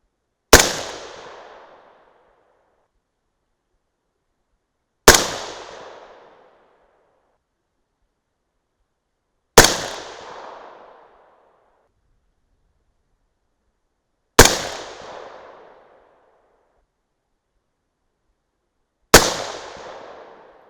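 Five sharp 6.5 Grendel rifle shots firing 107gr Sierra Match King loads, each a loud crack with a short decaying echo, spaced about every four to five seconds with silence between.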